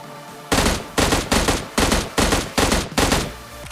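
Gunfire from an M16 and UMP in the mobile battle royale game BGMI: seven loud, evenly spaced bursts of shots rattle in quick succession, close and dominant with no talking.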